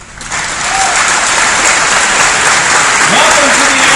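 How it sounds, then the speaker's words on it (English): A large conference audience at a Google Developer Day applauds loudly, the clapping swelling within the first half second and then sustaining as a dense, even roar, with a faint voice heard briefly underneath. "So give yourselves a round of applause."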